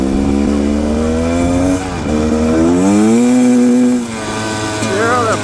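A Rieju Ranger motorcycle engine, still cold and with its jetting being adjusted, revs up and down close by with a loud, uneven blubbering note whose pitch rises and dips several times.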